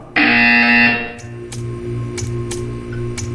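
A buzzer in the video game Portal 2 sounds once, loud and harsh for about a second, then cuts off, leaving a low hum and a few faint ticking clicks.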